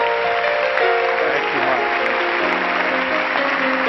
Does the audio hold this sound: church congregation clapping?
yes